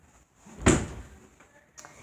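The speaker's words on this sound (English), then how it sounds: "let me shut the door" A room door is pushed shut with a single solid thud, close and fairly loud, followed by a faint click or latch sound a second later.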